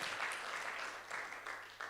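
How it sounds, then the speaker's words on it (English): Audience applause at a church gathering, brief quiet clapping heard faintly and at a distance, steady throughout the short stretch. "let's give him a big round of applause"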